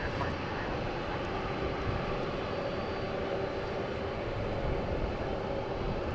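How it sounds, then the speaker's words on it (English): Small Metroliner turboprop taking off from a large international airport runway, heard as a continuous broad roar of engine and wind noise at moderate distance, steady and unbroken throughout. "The Metroliner is off to Denver. I almost couldn't find it. It was so small I couldn't find it. So let's see how much runway it takes up."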